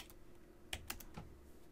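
A computer keyboard typed on while router configuration commands are entered for a networking lab. There are a handful of crisp, close key clicks, spaced irregularly over a quiet background.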